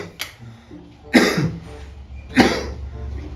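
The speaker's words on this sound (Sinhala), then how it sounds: "කැස්ස ඇවිල්ලා." Coughing indoors: three separate harsh, throaty coughs spaced about a second apart, close and fairly loud, the first short and lighter, the later two heavier with a rasping tail, with no speech.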